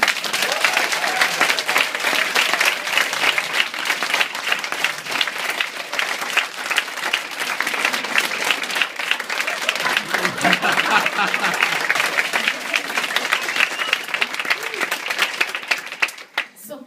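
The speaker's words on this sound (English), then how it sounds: "let's all give Palm a flipper round of applause" Audience applause after a children's penguin story performance, dense and loud, with many hands clapping steadily for over fifteen seconds before fading abruptly, some voices mixed in.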